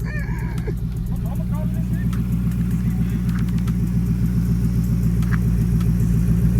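A swapped-engine SRT8 Chrysler 300 runs steadily nearby, a low, continuous rumbling drone that holds even throughout while people talk over it.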